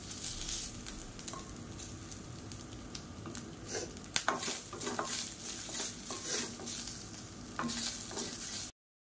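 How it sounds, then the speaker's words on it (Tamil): Grated coconut sautés in a hot pan, a steady sizzle broken by repeated scraping and stirring of a spatula against the metal, close and continuous with no talk. "தேங்காய் சேர்த்துட்டு லேசாக வதக்கி விட்டுக்கலாம்."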